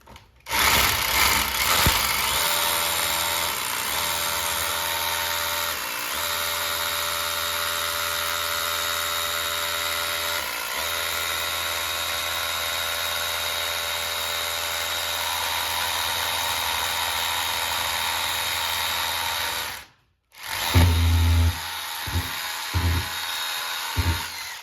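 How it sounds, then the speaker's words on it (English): A DeWalt DCH172B compact rotary hammer bores through a 4-inch solid concrete block with a long bit, a loud, steady hammering drone running nearly nonstop for about twenty seconds before cutting out, then a few short bursts. "this hammer drill was able to drill through the solid block in less than 1 minute"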